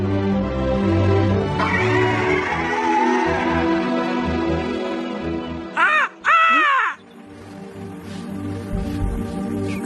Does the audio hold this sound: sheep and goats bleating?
no